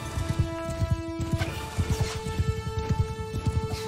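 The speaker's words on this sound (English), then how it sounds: "God, this horse is not fast." Horse hooves clip-clop in a steady galloping rhythm in Mount and Blade Bannerlord, the horse ridden toward enemy horsemen during a battle, close and prominent over sustained tonal game music.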